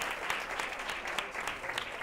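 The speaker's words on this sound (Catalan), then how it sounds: "Un aplaudiment per ells, si us plau." Faint, steady applause from a television quiz show studio audience, a continuous patter of many hands clapping for a school team, heard at a distance and low in level.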